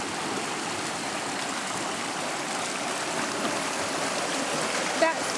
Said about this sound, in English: Quite noisy, you can hear the water going through.